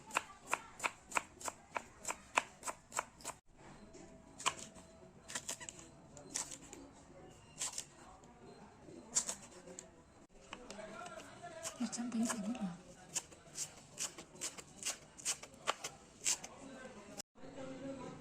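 A knife chops beans, carrots, beetroot and onion on a board for bisibele bath. Quick, even strokes come first, then a slower, uneven run of cuts under a steady background hum, with someone talking.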